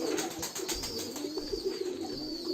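Domestic pigeons, King and Maltese breeds among them, coo softly and repeatedly at feeding time in a loft, a steady low murmur with light background noise and no speech.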